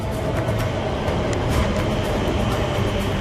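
A train pulls into a station with a steady, loud rumble of wheels and carriages, a continuous rolling roar with faint clicking over it and no talk.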